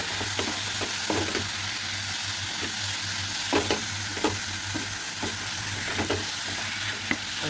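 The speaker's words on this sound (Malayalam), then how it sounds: "ഇനിയും ഒരുവിധം നന്നായി ഇളക്കി ഒരുവിധം നല്ല ഡ്രൈ ആവുന്ന വരെ വെക്കാം." Mutton liver frying Kerala-style with ghee and garam masala in a pan, stirred as it dries: a steady hiss with repeated scraping clicks from the stirring, close up and with no talking.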